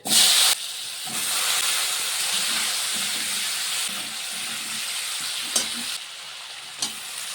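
Broad steady sizzle of green beans and potatoes frying with five-spice in a hot pan, with occasional stirring scrapes and small clatters over the continuous hiss.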